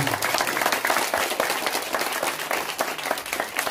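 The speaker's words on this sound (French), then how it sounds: "Je vous demande de l'applaudir." Applause from an audience at a community donation event, a crowd clapping loudly and steadily with irregular bursts of individual claps, some voices mixed in.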